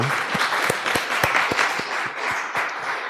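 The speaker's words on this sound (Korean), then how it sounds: "감사의 박수를 한번 보내겠습니다." A church congregation at a Thanksgiving service applauds steadily, with a few sharp individual claps standing out in a loose beat over the general clapping.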